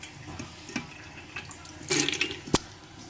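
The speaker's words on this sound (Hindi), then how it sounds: "2 गिलास इसके अंदर हमने पानी ऐड कर दिया" Water is poured from a glass into a pressure cooker holding soaked lentils and chicken, with soft splashing building to a fuller gush near the end and a sharp metallic clack just after.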